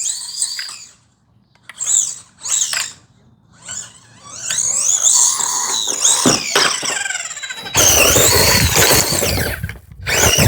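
A small 1/20 scale brushless RC Cyber Truck rushes through tall grass, giving a high whining motor with swishing rustle in short spurts, then a sustained louder run with broadband brushing noise near the end.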